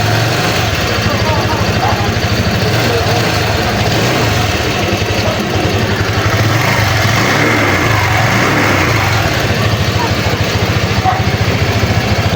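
A Honda Click scooter engine runs at a steady idle after starting on a new GS battery, a constant close mechanical drone throughout, with some talk over it.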